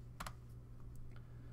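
Two quick keystrokes and then a few softer taps on a computer keyboard while code is typed, faint and close over a low steady hum.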